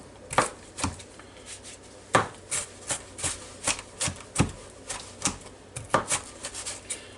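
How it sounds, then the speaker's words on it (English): A big knife chops vegetables finely on a cutting board, giving irregular sharp knocks in quick bursts, close up with no voices. "just get this stuff all chopped up pretty fine"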